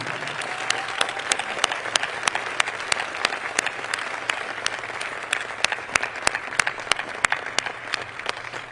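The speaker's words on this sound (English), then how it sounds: "Please join me in giving a round of applause to Dr. Antoine Garibaldi." An audience at an annual partnership meeting in Detroit claps steadily throughout, with sharp individual claps standing out over a dense, moderately loud wash of applause and no talking.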